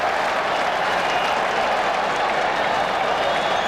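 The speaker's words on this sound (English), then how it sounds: "Crowd coming alive." A 1986 World Series Game 3 baseball stadium crowd applauds and cheers in a dense, continuous roar of clapping and voices, loud and unbroken throughout.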